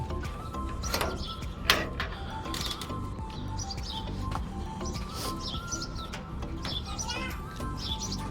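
Sheerazi pigeons chirp and coo softly at close range, with scattered short calls and light rustling over a quiet background.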